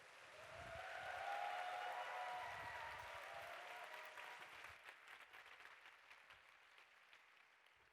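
A church congregation claps to welcome the pastor to the pulpit, a soft, distant wash of applause that swells within the first second and then gradually fades.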